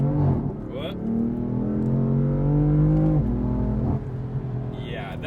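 A Stage 1 tuned BMW M4 with a twin-turbo six-cylinder pulls hard under acceleration, the engine note climbing steadily through a gear, dipping at a shift, then rising again, loud and close from inside the cabin.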